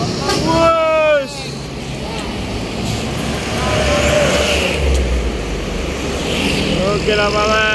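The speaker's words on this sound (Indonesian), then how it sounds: "Di belakang ada bus Tang." A bus drives along a road behind another bus, its engine a steady rumble with road noise, while a nearby voice talks over it at the start and end.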